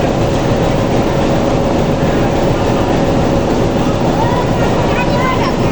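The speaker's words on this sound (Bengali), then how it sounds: "বনলতা এক্সপ্রেস ট্রেনটি 1 নম্বর প্ল্যাটফর্মে 2 নম্বর লাইনে এসে দাঁড়িয়ে আছে।" The Banalata Express train standing at a station platform with a broken-down engine, a loud, steady rumble of rail machinery and station noise with voices in the background.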